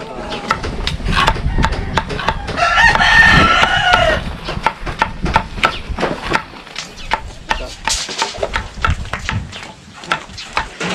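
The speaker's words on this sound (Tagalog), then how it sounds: "Manok na puti to." A white chicken clucks and crows at close range on a rural homestead, the calls rising over rustling, chopping-like knocks and outdoor bustle, with a voice talking intermittently.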